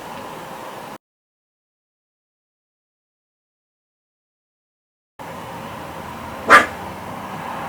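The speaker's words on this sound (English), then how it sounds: "That's my neighbour's dog." A neighbour's dog lets out a single short bark at a distance, standing out briefly against a steady background hiss that cuts out entirely for several seconds beforehand.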